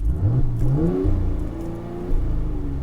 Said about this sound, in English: Can't stress how fun this exhaust is.